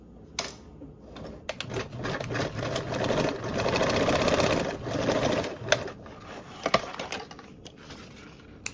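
A sewing machine stitches a quarter-inch seam along two short fabric ends, a steady rapid mechanical whir that builds, runs for several seconds and stops, with clicks before and after.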